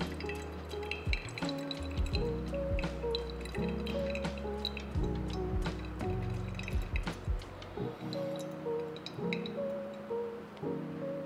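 Coffee drips steadily through a switch-style pour-over brewer, a run of small liquid drips and gentle trickling with occasional light clinks, close and alone without talk.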